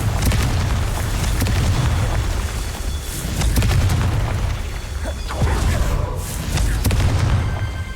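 Confringo fire spell explosions in Hogwarts Legacy, a run of deep booming blasts and rumbling bursts rolling one into the next at close, loud range.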